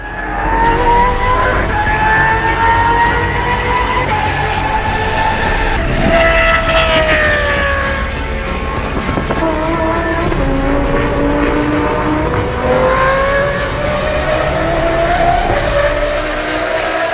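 A high-revving V10 racing engine derived from F1 and Le Mans prototype racing screams continuously, its pitch climbing and dropping through gear changes, loud and close for the whole stretch, at a time attack event.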